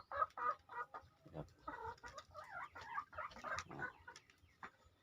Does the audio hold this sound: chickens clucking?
yes